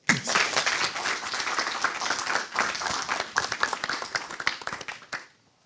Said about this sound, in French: Double dose d'applaudissements, merci.